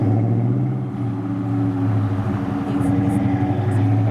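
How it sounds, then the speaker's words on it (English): A Ford Mustang SVT Cobra drives past, its engine a loud, steady low rumble that holds close for the whole stretch, with voices talking over the noise. "Oh no, it's the Mustang. That was an SVT Cobra."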